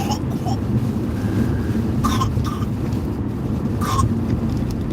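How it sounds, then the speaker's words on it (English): Several short coughs break through a steady rumbling background, a couple close together and another a bit later. "Both been coughing a lot."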